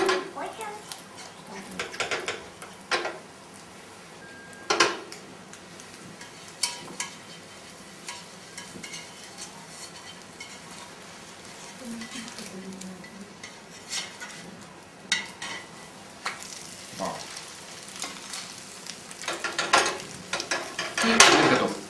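Omelette frying in a pan on a stovetop, with scattered clinks and scrapes of utensils against the pan as it is flipped, soft sizzling underneath, moderately close and fairly quiet.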